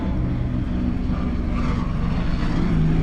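Racing powerboats at the Great Lakes Grand Prix, boats capable of 150 to 160 mph, roaring past at speed; a loud, sustained engine drone, steady throughout with a slight swell near the end, no talking.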